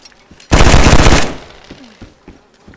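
A loud burst of automatic gunfire in the DayZ survival game rattles for under a second, then trails off into scattered quieter shots and faint clicks.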